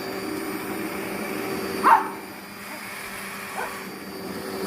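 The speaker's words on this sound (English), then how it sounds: "my puppy loves to bark when he hears loud noises" Two short yips from a small dog, the first louder and the second fainter, over a constant low mechanical hum.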